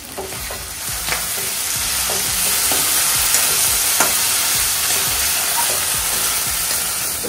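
A dish of meat pieces being slow-fried (kosha) and stirred in a pan in a Bangalore home kitchen: loud, continuous close sizzling with repeated scrapes and clinks of a spatula against the pan, no voices.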